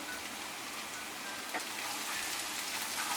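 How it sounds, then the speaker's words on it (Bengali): Onions and garlic frying in a pan for a Bangladeshi gourd-leaf stir-fry, a steady close sizzle with dense crackling throughout and no voices. "এখন আমি এটি ব্রাউন কালার হওয়া পর্যন্ত ভেজে নিই"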